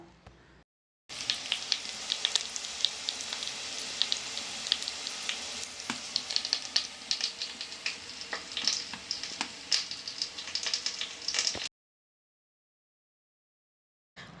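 Ginger and garlic fry in oil in a pan for a Malayalam-style fish curry. A steady, close sizzle with crackling pops runs for about ten seconds, with no talking.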